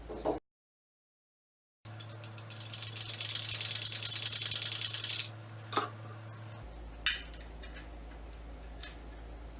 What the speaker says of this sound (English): Alright, the ratchet wrench fits this one.